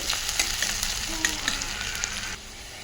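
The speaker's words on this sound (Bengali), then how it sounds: "এই পেঁয়াজটাকে একটু লাল লাল করে ভেজে নেব" Onions frying in hot oil give off a dense, steady sizzle with small crackles and a faint stir or two, close and continuous, then drop slightly in level near the end.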